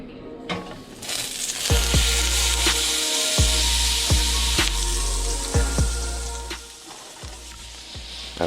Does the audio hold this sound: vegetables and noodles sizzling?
yes